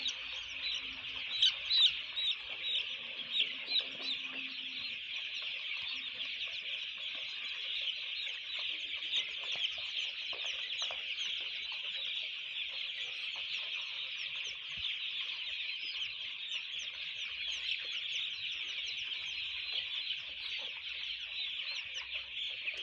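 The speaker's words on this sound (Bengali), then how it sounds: "প্রত্যেকটা মুরগি খানার লাই ব্যাধি হয়ে গেছে।" A flock of chicks and hens scrambling and fighting over feed makes dense, continuous clucking and cheeping up close, with a few low scuffles early on and no talking.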